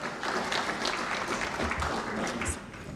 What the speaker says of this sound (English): Ladies and gentlemen, a bigger round of applause for Honorable Muroli Mukasa